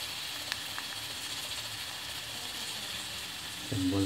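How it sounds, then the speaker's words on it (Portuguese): Soft, steady sizzling hiss of onion frying in a pan, continuous and close, with a faint clink near the end. "cebola já está fritando."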